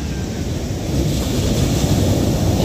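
Big waves roll and crash at a river, a loud, continuous rushing surf blended with heavy wind buffeting the microphone.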